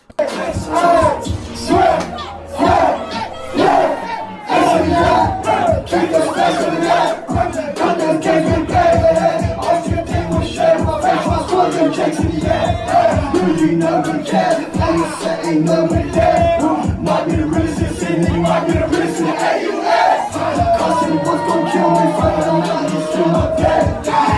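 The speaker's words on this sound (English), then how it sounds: "you hear that crowd" Crowd noise at a live rap performance in Sydney, mixed under a loud, beat-driven backing track and rapping vocals for the whole stretch, with cheers blending into the music rather than standing out alone.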